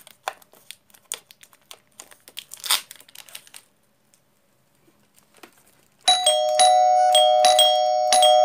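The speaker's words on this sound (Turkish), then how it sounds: "Tamam bu kadar çalışıyor arkadaşlar zilimiz." A ding-dong sound door bell rings loudly with sustained chiming tones in the last couple of seconds, after scattered crinkling and handling noises.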